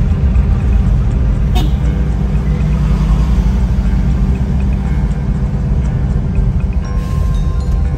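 Cars overtaking on a dark road in Mindanao, a loud, steady engine and traffic rumble throughout, with a brief horn toot near the start and another near the end.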